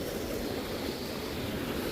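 A small mountain stream in a Pahadi Himalayan village runs after heavy rain and a landslide, now lower, giving a steady, dense rushing wash of water close by with no voices.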